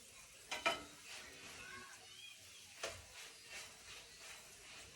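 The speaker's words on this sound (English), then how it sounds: "moving the chapati around in your pan" A Kenyan chapati being shifted around a hot pan, a quiet soft sizzle with faint scraping and a few sharper light knocks near the start and middle, low and close.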